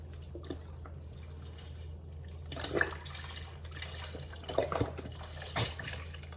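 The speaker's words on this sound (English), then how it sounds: "You want to add your whole container of broth." A 32-ounce container of broth pours into a pot for mofongo with shrimp in Creole sauce, giving soft splashing and gurgling bursts over a low steady hum.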